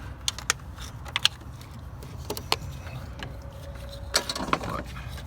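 Sharp metallic clicks and ratchet ticks come in short irregular bursts as an 8mm coil pack bolt is worked loose on a 2006 Chrysler Town and Country minivan, close over a low hum.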